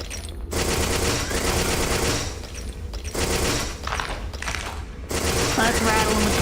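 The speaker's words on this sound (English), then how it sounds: "Let's rattle him with the skeleton gun." The skeleton gun in the video game Mohrta/Element 64 fires rapid automatic bursts, loud and close, in several long rattling volleys separated by brief pauses.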